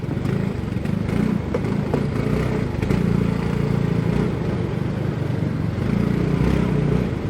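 Alpha Volantis Horizon 300 motorcycle, a 300 cc bike, accelerating through traffic, its engine droning steadily with surges in revs amid heavy wind and road noise, fairly loud and continuous.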